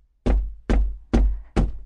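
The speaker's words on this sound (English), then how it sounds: "the fisherman went to the priest's house and knocked on his door" Four firm knocks on a wooden door, evenly spaced and close by, each a hollow thud with a short ring-out, with silence between them.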